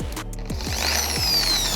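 A car polishing machine motor whirs and ramps upward in pitch as it spins up to maximum speed, climbing steadily toward a high, sustained whine.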